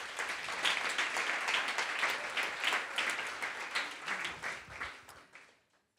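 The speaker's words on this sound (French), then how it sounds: "j'aimerais qu'on les remercie en les applaudissant" An audience applauds sponsors at an evening fashion-themed event, a dense, steady wash of many hands clapping at moderate distance that holds for several seconds, then fades out near the end.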